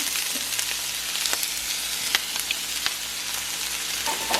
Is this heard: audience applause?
no